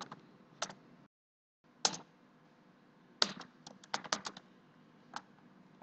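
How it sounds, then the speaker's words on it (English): Keystrokes on a computer keyboard, sparse clicks and short bursts of typing close up and fairly quiet, with a brief silent gap, no talk. "Now enter the database name you created in the previous step."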